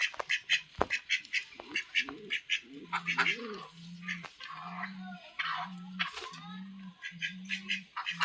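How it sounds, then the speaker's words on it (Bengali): Pankiraj ducks returning to their shelter quack close by, a rhythmic run of nasal quacks repeating over scattered bird calls and background chatter. "আর হাঁসগুলো এখন বাইরে ছিল, বাইরের থেকে এখানে বাসায় চলে আসলো।"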